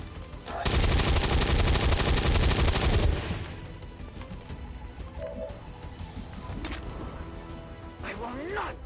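A dense, loud burst of rapid automatic gunfire in the tactical video game Troubleshooter, lasting a couple of seconds up front and followed by quieter game sounds and a voice.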